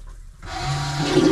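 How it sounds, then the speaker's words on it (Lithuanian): A yacht toilet's holding tank pump switches on and flushes the tank out, a loud, steady rushing and churning of water with a low motor drone that starts abruptly and builds toward the end, close by, with no talking. "Įjungi bako pompą ir viską išvaro lauk."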